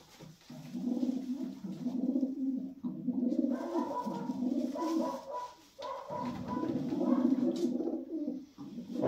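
Racing pigeons in a Romanian loft give steady, repeated low cooing that runs almost without pause, with a brief break near the middle, close and moderately loud, with no talk over it.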